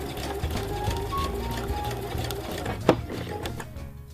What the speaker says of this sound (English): I will sew only towards the cut, and now I'll do the sew up